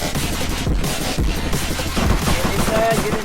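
Rapid bursts of video game gunfire in an ER:LC police roleplay crackle in quick succession, loud and close, forming a dense, chaotic fusillade.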